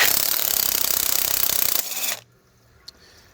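Impact wrench hammering off a thread-locked front suspension nut on a 1984 C4 Corvette: a loud, steady rattling burst close by that cuts off abruptly, leaving near silence with one small clink.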